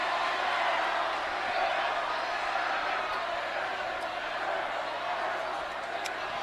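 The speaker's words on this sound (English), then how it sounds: "And the Memorial student section applauds." A Madison Memorial high school student section applauds an opponent's airball during a WIAA sectional semifinal basketball game against Middleton. The crowd noise is steady, dense and fairly loud for the whole stretch, with a commentator talking over it.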